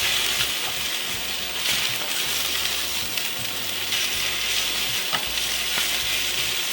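Spinach and garlic sauté in olive oil in a pan, making a loud, continuous crackling sizzle with occasional stirring clatter and no talking.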